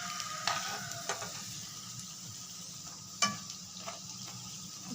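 Egg pakoras fry in hot oil with a soft, constant sizzle, broken by a few sharp clicks and taps of stirring from nearby utensils.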